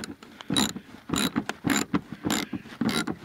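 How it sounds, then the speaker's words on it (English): Ratchet wrench working an 8mm bolt off the radiator drain plug area of a Ford Taurus during a radiator flush, five quick bursts of close clicking separated by short pauses, with no voices. "This right here is an 8mm bolt that I'm removing."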